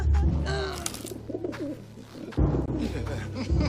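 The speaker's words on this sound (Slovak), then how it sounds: "Idem vypustiť toho holuba." A pigeon being released coos a few times close by, with quick fluttering bursts and rustling around it.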